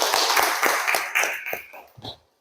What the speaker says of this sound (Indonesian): Bagus, kasih tepuk tangan untuk Nadifah